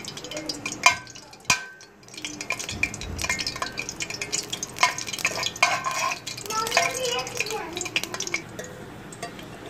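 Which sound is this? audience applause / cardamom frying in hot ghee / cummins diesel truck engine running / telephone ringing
cardamom frying in hot ghee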